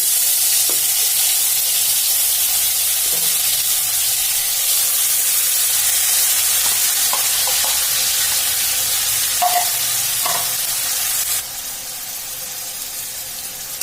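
Spice paste (masala) frying in hot oil for Mithila-style stuffed karela: a loud, constant close sizzle with scattered spoon taps and scrapes, easing slightly toward the end.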